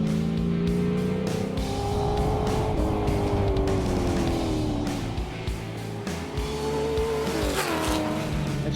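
A 1981 Fox Body Cobra Mustang driven hard, its engine roaring steadily close by with pitch rising and falling and tires squealing through the run.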